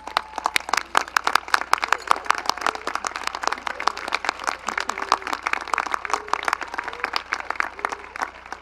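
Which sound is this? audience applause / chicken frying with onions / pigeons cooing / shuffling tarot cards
audience applause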